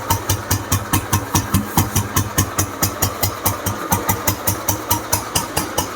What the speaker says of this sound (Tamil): இன்ஜினோட பீட் காட்டுறேன் பாருங்கள்.